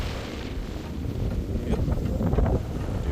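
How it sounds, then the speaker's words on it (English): Steady wind buffeting the microphone on a clifftop at Yepoon, a broad low rumble that swells slightly toward the end, with no talking. "It's pretty windy."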